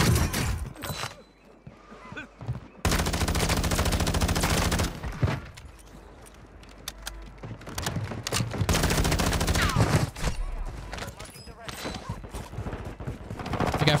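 Loud, close bursts of automatic gunfire in the Warzone 2 video game, with long sustained volleys broken by short pauses and some talking in between.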